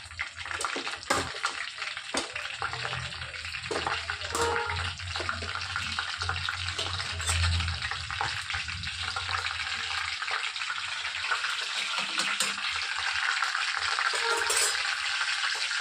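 Onions frying in a pan with turmeric, a continuous dense crackling sizzle with scattered pops and occasional stirring scrapes, fairly loud and close throughout.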